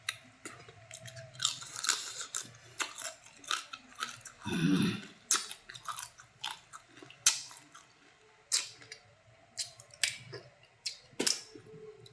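Crab being eaten up close, with repeated sharp crunches and cracks of shell between wetter chewing sounds, arriving in irregular bursts with short quiet gaps.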